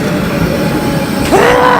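A train runs through a station, a loud steady rumble of rolling railcars with a rising squeal of wheels near the end, close by and without talk.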